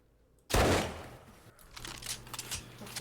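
A single loud gunshot in 7 Days to Die cracks out suddenly and decays into a rumbling tail, followed by fainter scattered rattles and background noise.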